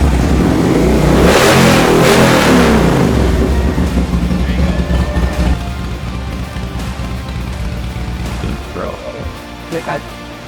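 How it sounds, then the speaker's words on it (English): A motorcycle engine revs loudly and roars as the bike is brought in at a saloon gathering, then fades to a lower rumble with crowd noise behind it. "we got his motorcycle here, and his brothers are going to bring the bike in"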